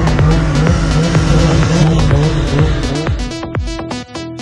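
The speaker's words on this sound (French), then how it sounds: "préchauffage de la moto." Honda racing motorcycle being warmed up in the paddock at Lédenon during a French superbike round: loud, close engine revving in repeated rising and falling bursts that grows rougher and more sputtering toward the end.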